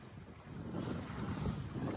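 A southwest breeze rushes past a Buccaneer 18 sailboat out on the water, a steady broadband wind roar buffeting the microphone with faint water wash underneath.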